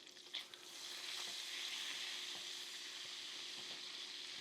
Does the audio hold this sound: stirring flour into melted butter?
yes